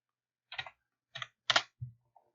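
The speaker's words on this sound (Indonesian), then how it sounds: "Saya ketikkan hi lagi." Four separate sharp key clicks on a computer keyboard, spaced unevenly over a couple of seconds, close and crisp with silence between strokes, then one faint tap.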